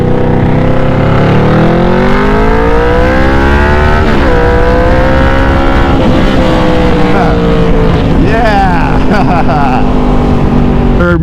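A 1985-era Yamaha Vmax drag-style cruiser with a 200-horsepower engine: loud, close, continuous engine roar that rises and falls in pitch as it revs and accelerates, with someone speaking over it.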